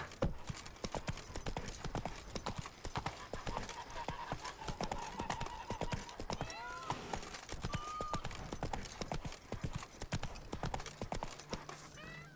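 Hooves of Roach, a horse in The Witcher 3 set in the Blood and Wine region, clip-clop steadily at a gallop throughout, a close and continuous rhythmic beat with an occasional whinny and game sounds mixed in.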